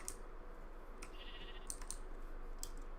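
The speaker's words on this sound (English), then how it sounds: "Poor pink sheep." Minecraft sheep give a couple of faint, short bleats over a quiet background, with scattered sharp clicks like keyboard taps.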